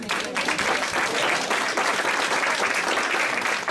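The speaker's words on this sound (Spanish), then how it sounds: "Yo quiero que ustedes se den un aplauso a usted mismo" A church congregation applauding themselves during a sermon, thick continuous clapping that fills the space evenly from start to finish, loud and unbroken, with no speech on top.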